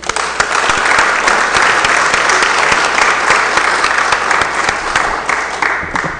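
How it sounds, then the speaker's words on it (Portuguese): A standing room applauds the national flag at the opening of a regular municipal council session. The clapping is loud and dense, with no voices over it, and holds steady for several seconds. "façamos uma saudação, uma salva de palmas ao Pavilhão Nacional"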